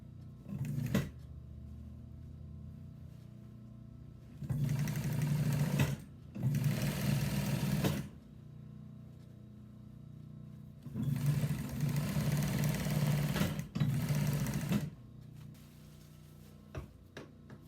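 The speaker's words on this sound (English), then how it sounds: "We're going to do that while we're sewing, which is now the next step." A sewing machine stitches a velvet scallop seashell pillow in short bursts: a quick run, two longer close runs, then a final longer run, with quiet pauses between.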